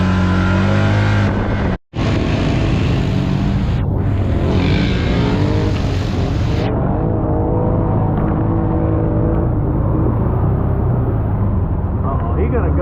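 A turbocharged car revs hard and accelerates past in pouring rain, engine roaring loud and close over steady rain hiss, with excited voices talking throughout.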